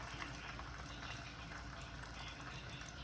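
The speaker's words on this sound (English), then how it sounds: "we're just gonna keep frying them up until they're completely done" Breaded steak frying in a pan, a steady soft sizzle and bubbling hiss that stays constant throughout, faint and close with no talking.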